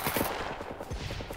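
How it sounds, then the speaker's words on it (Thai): Gunfire rattles in the Scum survival game, a fairly steady string of shots at moderate loudness set against a busy, noisy background. "มีคนยิงจ้ะ"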